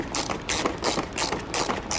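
A ratchet tightens the screws on a 2015-or-later Jaguar XE engine air filter housing, a close, steady run of quick clicking bursts repeating every half second or so.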